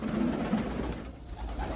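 Crested Mykolaiv pigeons coo softly among a flock kept in a backyard loft, low murmuring calls under a steady hiss of outdoor background noise.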